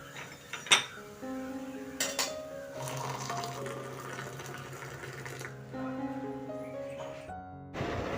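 Pots and dishes clink and clatter at a kitchen sink with intermittent knocks and scrapes, and water runs in the background of a quiet home.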